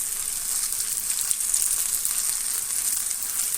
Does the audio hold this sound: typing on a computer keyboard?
no